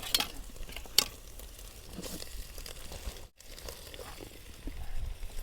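Chopped tomatoes fry in a pan for fish head curry, giving a steady, fairly quiet sizzle with occasional stirring scrapes and crackles, and no talking.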